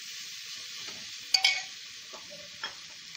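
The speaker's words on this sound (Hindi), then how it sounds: "आधा मिनट मसाले को वेजिटेबल के साथ भून लेंगे" Spices frying with vegetables in a pan for vegetable rice, a soft continuous sizzle broken by a few sharp stirring clatters of a spoon against the pan.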